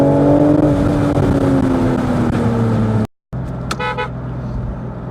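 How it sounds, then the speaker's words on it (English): A 2019 BMW Z4 M40i's straight-six engine howls loudly and steadily, its rising harmonics sustained while driving around Cape Town, then cut by a brief silence before higher tonal sounds return. "BMW's tailor-made straight six howl has been a signature of theirs for many years"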